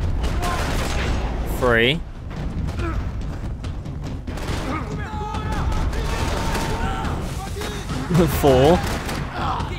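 Gunshots ring out in the video game Max Payne 3, a few sharp reports among mechanical clatter while a voice counts aloud over the action.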